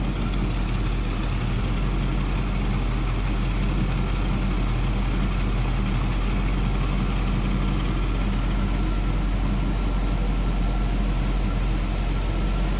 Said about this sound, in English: Slip back here and listen. Nothing crazy over the top for exhaust.